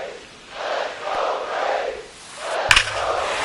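A home baseball crowd roars in rising and falling swells after a game-tying deep home run to left field, loud and sustained, with a sharp thud near the end.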